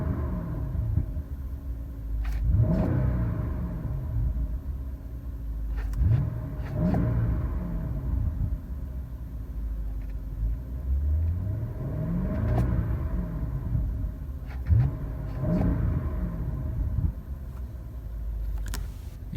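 A 2015 BMW 650i Gran Coupe V8 rumbles at idle and is revved several times, each rise swelling into a deep exhaust roar before falling back, heard from outside at moderate distance with occasional sharp pops.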